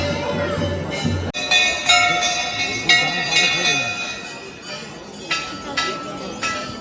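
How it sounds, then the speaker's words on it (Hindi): Many bells at an Indian temple clang over and over in a dense, ringing jumble with irregular strikes and lingering metallic tones, while people talk nearby. "यहाँ पे आपके पास कोई भी माइक हो भाई, नहीं आवाज़ आएगी, क्योंकि इतनी ज़्यादा घंटियाँ बज रही है"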